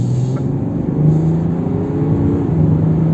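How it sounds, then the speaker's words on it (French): A BMW X5 accelerating hard in sport mode, heard from inside the cabin as a loud, steady engine drone and rumble that rises in pitch without a break, with no talk. "Ça accélère fameusement, hein."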